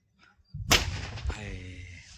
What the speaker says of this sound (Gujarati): લાસ્ટ અને છેલ્લો ધડાકો છે આપણે.